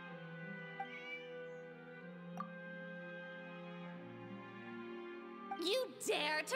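Cats meow in Genshin Impact, several short high meows clustered near the end, following sustained melodic game music with a voice at times.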